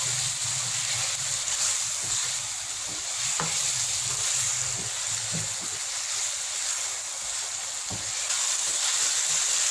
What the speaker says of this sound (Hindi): चिकन को हमने अच्छी तरह से भूनना है ताकि इसका जो कच्चापन है वो ख़त्म हो जाए।